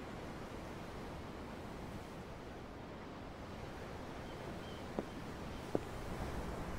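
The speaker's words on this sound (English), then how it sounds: "The ocean? Yeah. The waves. They help me think." Ocean waves in the video game Tales of Arise, a steady, soft wash of surf and wind heard alone, with a couple of faint clicks near the end.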